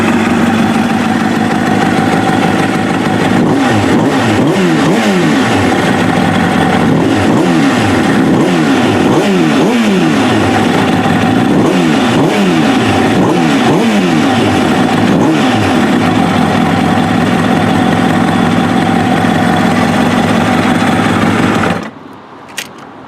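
A Kawasaki ZX7R motorcycle fitted with flat slide carburetors revs repeatedly over a steady engine drone, with rhythmic rises and falls in pitch for about twenty seconds before cutting off abruptly near the end.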